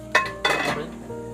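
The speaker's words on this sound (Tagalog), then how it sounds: "Tatakpan ko muna ng kamay ang Mahiwagang kaldero." A cooking pot handled outdoors on a mountain, with two sharp metallic clinks and clatters of the pot and lid close by, followed by a softer lingering scrape.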